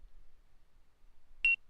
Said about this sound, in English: The faster it beeps, that means that you're most likely getting caught.